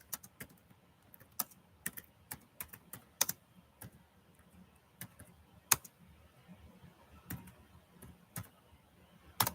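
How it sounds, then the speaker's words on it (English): Quiet, irregular typing on a computer keyboard, with sharp individual keystrokes and short bursts spread across the whole stretch over a low background hum. "Let me get it typed in."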